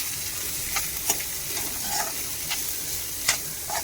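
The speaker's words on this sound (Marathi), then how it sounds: "लसूण आणि कढीपत्ता घातलाय आता कांदा" Onion frying in a pan over garlic and curry leaves for a dried-fish chutney, giving a soft even sizzle with occasional sharp spatula clicks and scrapes, heard alone and close.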